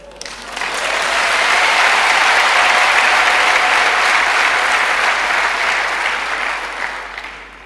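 A church congregation claps together in a sustained round of applause that swells in quickly, holds loud and dense for several seconds, then fades slightly toward the end.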